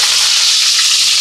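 Green chilies, garlic and onion sizzle hard in hot oil in a pan, a loud, dense, continuous crackle heard up close for a brief moment with no talking.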